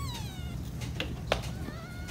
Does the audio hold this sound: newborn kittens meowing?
yes